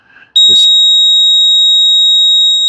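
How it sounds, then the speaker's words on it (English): Ghost Controls solar gate controller giving a single loud, sustained electronic beep that holds steady for over two seconds, with brief speech just before it. "Okay, it beeped."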